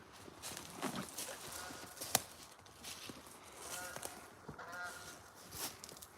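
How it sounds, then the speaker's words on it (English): A Canada goose honks faintly and at a distance outdoors, a few scattered calls over rustling footsteps and ambient noise. "Goose. I'd say geese, but I only hear one."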